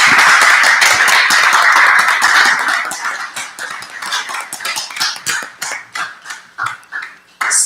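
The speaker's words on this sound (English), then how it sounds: "a big round of applause for our 2025 Cayman Islands Business Design Competition" Room of people applauding competitors at the 2025 Cayman Islands Business Design Competition, loud dense clapping for a few seconds that thins out into scattered, separate claps before one final burst.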